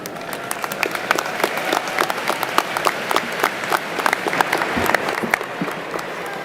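Dense applause from a large commencement crowd, sustained and fairly loud with many overlapping claps, steady throughout with a voice briefly heard beneath.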